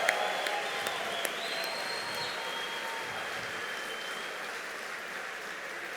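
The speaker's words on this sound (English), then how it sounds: "give the entire crowd a thunderous round of applause for this wonderful giving moment" Steady crowd applause fills the space at a charity fundraising event, dense and continuous, with a faint electronic tone drifting over it.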